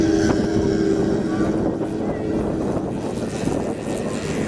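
A continuous buzzing drone from a large-scale Bronco twin model aeroplane's Zenoha 62cc petrol engine taking off at a model show holds steady and fairly loud throughout, with a rough, wind-blown texture and no speech over it.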